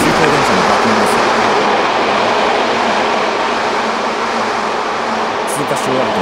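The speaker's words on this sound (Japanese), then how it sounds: "駅に止まっていると反対側8500系が通過。 すごい音です。" A Tokyu 8500 series express train roars past a station at full volume, a dense, steady rush of motor and wheel noise heard from a stopped train across the platform.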